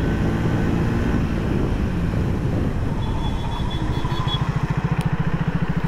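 A 2024 Triumph Speed 400 brakes hard with both brakes: steady wind-buffeted engine drone close to the microphone slows into a low, pulsing single-cylinder thump as the motorcycle decelerates, with no talking.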